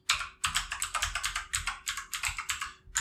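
Fast, steady typing on a computer keyboard while writing JavaScript code for a Laravel ecommerce project. The key clicks run in quick, continuous bursts at a quiet, close level.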